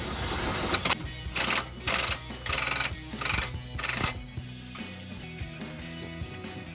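A ratchet wrench snugging the steering stabilizer nuts on a Jeep Gladiator JT, with bursts of rapid clicking in rhythmic runs. It is close and fairly quiet and ends in a few scattered clinks.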